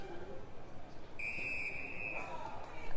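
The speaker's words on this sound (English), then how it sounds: "As the umpire's whistle is blown" A sharp, sustained umpire's whistle blast of about one second cuts through steady crowd noise at a sports ground.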